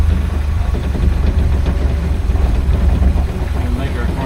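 A BMW 2002 rolls along with a low, constant engine rumble and road drone up close, while muffled voices murmur inside the car.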